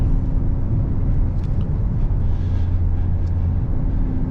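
Engine of a 2021 Hyundai Sonata N Line rumbles low and steady from inside the cabin on a scenic road, a continuous drone with a lower tone swelling partway through as it downshifts.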